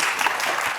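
An audience at a public policy event claps in a brief, dense, even burst of applause close by.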